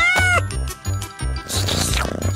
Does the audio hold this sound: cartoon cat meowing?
yes